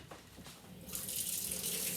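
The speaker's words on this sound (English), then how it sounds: "I gotta put the water on." Water runs steadily from a kitchen tap during home bread making, rising into a full, constant hiss after a short quieter start, close by with no talking.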